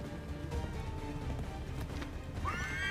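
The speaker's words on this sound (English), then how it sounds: "Hurry up, horse." A horse whinnies near the end over a steady rumble of hoofbeats and game ambience in Assassin's Creed 3, the galloping continuing throughout at moderate volume.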